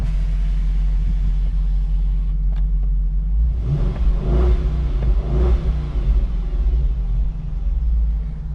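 2009 Dodge Charger SRT8 V8 with an aftermarket exhaust, a deep idle rumble that swells into a few throaty revs about halfway through, heard close for over eight seconds with no talk.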